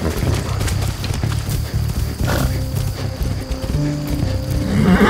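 Horse hooves clip-clopping in the video game Far Cry 6, a steady rhythmic patter running throughout at close range, with a brief snort and game sounds layered over it.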